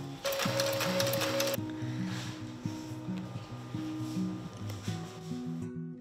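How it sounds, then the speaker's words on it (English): A table-mounted strap cutter working through bag straps, with a steady close mechanical whirring and rhythmic clunking repeated throughout, a brief hiss at the start and no voices. "So this is our table mounted strap cutter."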